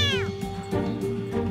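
A scared kitten meows, close and loud: a drawn-out cry followed by a couple of shorter, strained meows in quick succession, with nothing else heard.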